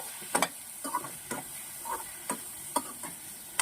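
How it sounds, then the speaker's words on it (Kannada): Chicken pieces fry in hot oil with tomato, giving a steady soft sizzle broken by several sharp scrapes and taps of a spoon stirring the pan. "ಎಣ್ಣೆಯಲ್ಲಿ ಎಣ್ಣೆಲಿ ಫ್ರೈ ಮಾಡಿದ್ರೆ ರುಚಿ ಚೆನ್ನಾಗಿರುತ್ತೆ"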